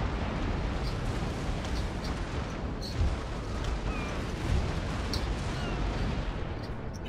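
Naval cannon fire from warships in Napoleon: Total War, a dense, continuous rumble of distant booming broadsides with a couple of heavier thuds standing out, steady and loud throughout with no talking.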